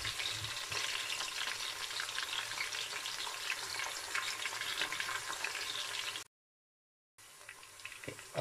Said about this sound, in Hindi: प्याज को हम इस तरह ब्राउन होने तक पकाएंगे।